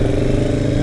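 KTM Duke 390 motorcycle engine running close up, a dense continuous throbbing drone held steady for a brief moment with no talk.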